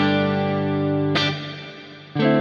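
A sustained guitar-like chord rings out through a Meris Mercury X modular reverb pedal set to an empty preset, then decays and is struck again near the end, with no talking.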